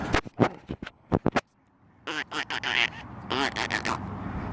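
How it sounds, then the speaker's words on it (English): Park ducks quack in a burst of several loud, rapid calls, close by, followed after a brief pause by a longer flurry of overlapping quacks and honks. "Scaring the ducks."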